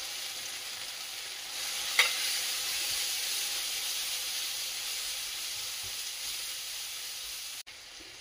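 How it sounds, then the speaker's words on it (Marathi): Pav bhaji masala sizzles steadily in a pan on its own, a continuous broad hiss with a single sharp scrape of stirring near the start and a brief clatter toward the end. "तर इथे आपला मसाला छान असा परतून झाला"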